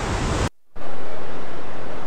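Fast-flowing mountain river water on the Manimahesh Yatra trail between Dhansho and Shivghrat; a loud, steady rushing roar cuts out briefly to near silence, then returns at full strength and runs on without talk.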